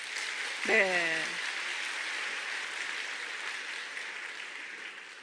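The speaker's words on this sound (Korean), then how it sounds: "우리 박수 한번 쳐주세요" Sustained applause from an audience at a business success lecture, a steady wash of clapping with a single voice speaking briefly near the start.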